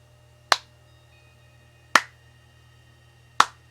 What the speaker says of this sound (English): That is my slow clap for you.